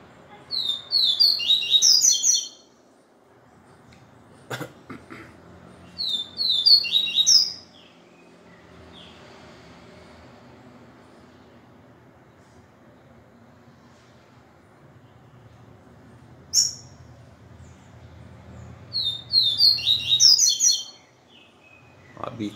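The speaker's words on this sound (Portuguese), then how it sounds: "Devagar, devagar que eu vou conhecendo aos poucos o passarinho." A papa-capim (Sporophila) songbird sings in short bright bursts of chirps, grouped in several clusters with quiet gaps between them, close and clear over faint low background noise.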